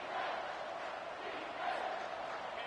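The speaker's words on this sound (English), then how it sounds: "The crowd elevating its energy, willing this defense to get a stop on this big 3rd down" Stadium crowd in NCAA 25 cheering ahead of a big third-down defensive play, a dense, sustained roar of many voices that stays loud and even throughout.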